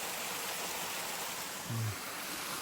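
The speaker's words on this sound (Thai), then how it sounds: "น้ำตกไหลสวยมาก" A waterfall flowing steadily, a continuous broad rushing wash of water that stays even throughout, with a brief low thump near the end.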